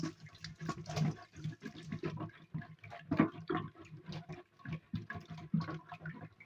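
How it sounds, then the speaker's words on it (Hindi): Yogurt churned by hand with a wooden churner for kadhi, giving soft, rapid wet sloshing and swishing strokes in an uneven rhythm, close and fairly quiet. "ये देखिए मैंने दही डाल लिया, इसको थोड़ा सा ऐसे मदानी के साथ रिड़केंगे।"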